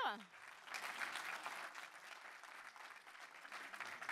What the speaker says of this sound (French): Merci, bravo à vous, hein, on peut les applaudir.